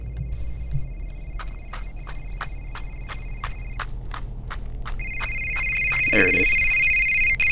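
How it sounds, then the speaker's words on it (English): Telephone ringing in a rapid repeating trill, fairly loud and near, with footsteps and background movement around it and a brief voice at the end. "That phone ringing."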